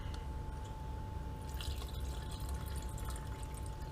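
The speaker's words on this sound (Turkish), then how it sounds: "Geniş bir kapta kahvemizi süzüyoruz." Cold brew coffee strained through a filter into a wide container, a continuous soft trickle and drip of liquid with a faint steady hum underneath.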